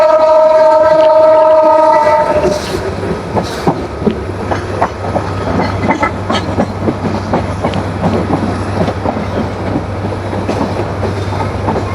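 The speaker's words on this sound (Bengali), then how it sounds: "এই হচ্ছে ঈশ্বরদী লোকো শেড।" A train rolls through Ishwardi railway junction, the largest rail junction in Bangladesh, near a loco shed, with loud rumbling wheels and clickety-clack after a horn-like tone at the start.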